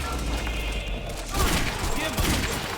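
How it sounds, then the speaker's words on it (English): Rapid bursts of gunfire from the video game Quantum Break, crackling and booming in dense clusters that stay loud throughout, with in-game voices mixed into the firefight. "I'm gonna dash out and shoot him."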